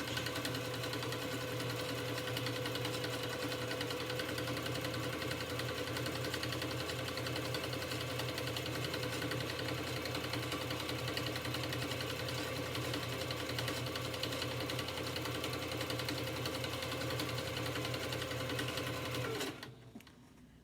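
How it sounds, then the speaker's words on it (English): A sewing machine runs a decorative stitch on a fleece hat with a fast, steady mechanical whirr and buzz that holds for about twenty seconds and then stops, close and alone. "So I've got my presser foot down. So now we're going to start my decorative stitch."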